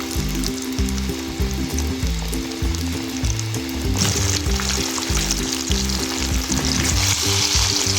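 Fish pieces frying in hot ghee in a pan, a steady, loud, continuous sizzle with stirring noises throughout, growing a little brighter and busier halfway through, with no talk.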